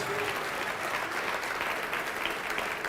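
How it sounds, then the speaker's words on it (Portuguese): A church congregation at a worship service claps together in a dense, sustained round of applause, steady and fairly loud throughout with no pauses. "Vamos aplaudir mais ao nome de Jesus."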